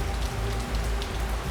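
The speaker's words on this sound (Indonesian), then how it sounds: "Teman-teman bisa lihat sendiri, ini hujan." Rain falls steadily at night, a dense hiss of drops pattering on surfaces, loud and continuous with no break and no voices.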